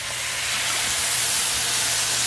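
About a cup of white wine hitting a hot pan while cooking stuffed peppers, producing a loud, continuous broadband steam hiss and sizzle, close up and unbroken, with no speech.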